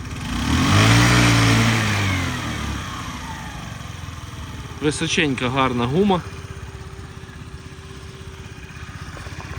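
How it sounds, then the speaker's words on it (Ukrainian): A Honda Tact AF-68 fuel-injected scooter engine runs nearby: it starts with a loud rising rev that settles to a smooth, steady idle while someone talks briefly over it. "робота двигуна от просто ідеальна. Все чітко, все тихо, жодного лівого, як то кажуть, звуку"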